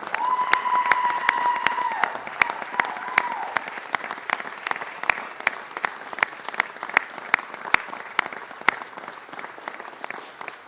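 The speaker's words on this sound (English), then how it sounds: "Let's give him another round of applause." An audience applauds Chief Charlie Beck of the LAPD, sharp, fairly sparse claps spread through a moderate crowd, with a brief steady tone audible early on.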